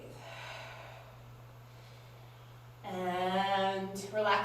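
Slow audible breaths during a yoga spine warm-up of rounding and arching, a long soft exhale followed by a louder breathy inhale or snort, close to the microphone and alone.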